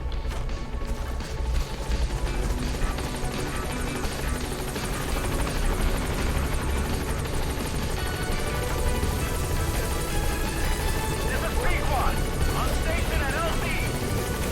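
A rescue helicopter in the video game Metal Gear Solid V beats with a loud, steady rotor throb and turbine whine that fills the whole stretch, with mechanical clanks and rattles layered over it.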